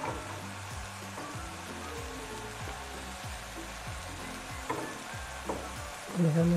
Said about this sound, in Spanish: en otro sartén más pequeño, ponemos un poco de aceite de oliva y añadimos la cebolla que cortamos en aritos.